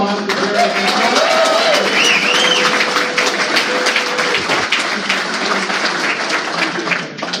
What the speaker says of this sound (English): Another round of applause for Jerry Hancock.